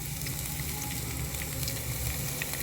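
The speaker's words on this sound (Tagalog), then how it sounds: "Fry till golden brown." Chicken feet fry in a pan with a dense, continuous close sizzle and crackle of hot oil that holds at an even level throughout, with no voices.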